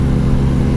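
Steady, loud motorcycle engine note from a Yamaha Tracer 900 GT, held at an even level for a brief moment with no voices over it.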